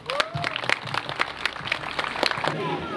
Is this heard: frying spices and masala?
no